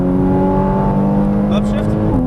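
A Porsche Cayman GTS engine howls at full throttle on track, a loud steady rising drone with an upshift near the end, under an instructor's talk.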